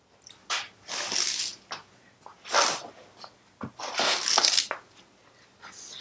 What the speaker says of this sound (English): So we need to undo a clutch center nut and our compensator.